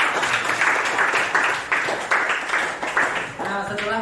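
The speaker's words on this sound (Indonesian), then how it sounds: "tepuk tangan dulu buat kita." Students in a classroom clap together in short bursts of several seconds, the claps fairly close, with voices mixed in underneath.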